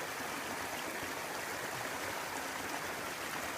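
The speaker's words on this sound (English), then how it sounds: "So we got a little brook coming down through here" A small mountain brook flows through woods below timberline, a steady, close, broadband rushing and burbling of water with no other sounds.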